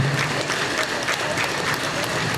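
A live audience at a stage show claps steadily and continuously throughout, a dense, even wash of applause from a crowd.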